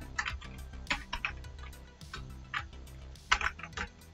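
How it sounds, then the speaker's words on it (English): Keyboard typing while entering invoice details into a PowerPoint cash bill design, heard as light, irregular key clicks in short bursts over soft background music. "Type your invoice number here, maybe like this, and press tab, and simple type the invoice."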